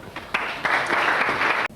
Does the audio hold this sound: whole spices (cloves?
no